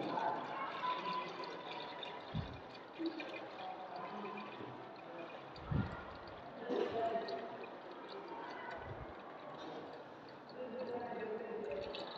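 A small AC motor pump fills a water tank, a faint, steady splash of pouring water running throughout, with a few low thumps along the way.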